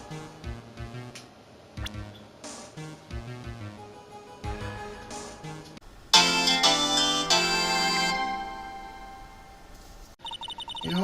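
A phone rings in the Ace Attorney: Justice for All game, a loud bright electronic ringtone that breaks in after a stretch of quieter blips and keeps ringing steadily.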